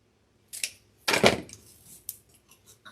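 A few sharp snips of scissors cutting, with one longer slicing cut in the middle and small clicks after, close by with no talking.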